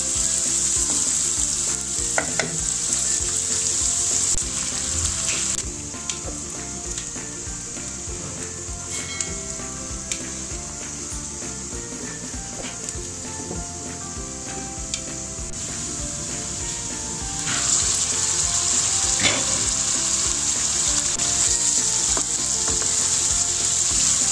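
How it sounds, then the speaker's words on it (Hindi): Chicken frying in a pot for Sindhi biryani gives a loud, continuous close sizzle with scattered stirring clicks and scrapes, the hiss swelling stronger in stretches, with no voices. "चिकन हल्का सा फ्राई भी हो चुका है"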